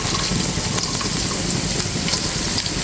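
Chopped cabbage tossed into a hot pan with onions for a Bengali cabbage bhaji gives a continuous, fairly loud sizzling hiss with faint crackles running through it.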